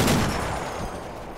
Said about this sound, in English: my M250 caliber machine gun in the top floor of the villa facing that direction decides that it's had enough of waiting and opens fire